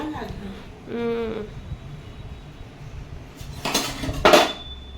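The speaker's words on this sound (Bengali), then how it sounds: "এবার মিক্সিং হচ্ছে, ভালো করে মিশিয়ে বেশ সুন্দর করে নেড়ে চেড়ে" A spoon scrapes and clinks against a metal pot while prawn pulao is mixed and stirred, with several bright metallic knocks near the end and a person talking over the clatter.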